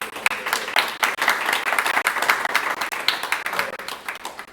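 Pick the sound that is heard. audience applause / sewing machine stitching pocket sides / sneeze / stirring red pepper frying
audience applause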